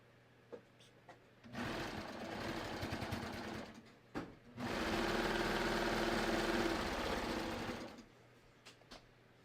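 A sewing machine runs in two loud bursts of rapid stitching as elastic is sewn onto stretched fabric, with a short stop between runs and faint clicks before and after.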